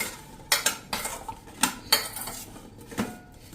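Mango pieces being tossed with salt and turmeric in a metal bowl, giving a series of sharp clinks and rattles of utensil against dish, close and fairly quiet, in irregular bursts.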